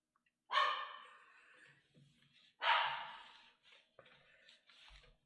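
Indoors, a dog barks twice in loud, close bursts about two seconds apart, each followed by softer huffs and small vocal noises, with no talk over it.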